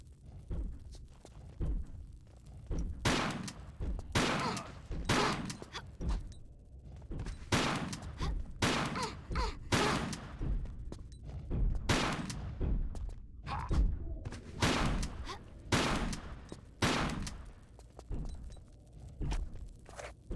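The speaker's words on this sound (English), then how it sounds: "Wow, the shotgun's proper shit from distance." Repeated shotgun blasts fired in the video game Tomb Raider: The Last Revelation, about a dozen loud booming shots at irregular intervals, each with a short decaying tail and no talk over them.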